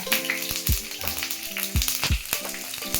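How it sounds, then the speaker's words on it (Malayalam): Chopped onions hit hot oil with popped mustard seeds for a jackfruit-seed curry, giving a steady close sizzle with a few louder crackling bursts and soft stirring knocks, no voices. "ഇനി നമുക്ക് അതിനകത്തോട്ട് അരിഞ്ഞ് വെച്ചിരിക്കുന്ന ഉള്ളി നമുക്കിടാം."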